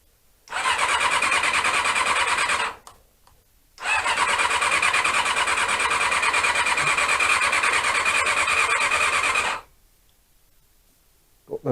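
Honda CB-1 motorcycle engine cranking on the starter without catching, two long steady loud bursts of whirring churn separated by a short pause, with no voices.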